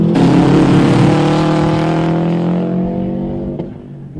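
A race car on Toyo Proxes R888 tyres roars loudly at high revs and holds a sustained, slightly falling pitch as it drives through a bend on a race track, close and steady.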